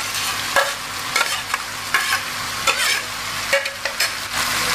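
Chili and spices fry in a pan with kaffir lime leaves and lemongrass, stirred in a steady rhythm: a loud, close sizzle with repeated scraping strokes of the spatula and no talking.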